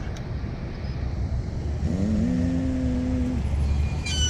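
A car passes cyclists riding recumbents along a bike lane, its engine swelling up and easing off as it goes by fairly close, over steady road and wind noise.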